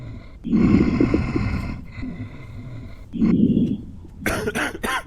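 An infected character coughs at a quarantine checkpoint in the game Quarantine Zone: The Last Check: two harsh, close coughing bursts, followed by a short rasping, voiced throat sound.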